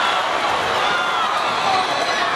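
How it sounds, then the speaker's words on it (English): High school basketball crowd in a gym roaring and cheering after a putback slam dunk, a loud sustained wall of voices with a commentator talking over it. "that brought the crowd to their feet"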